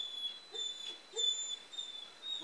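Sheriff's office police dog whimpering faintly in a few short, soft bursts over a thin, steady electronic whine, with no talking.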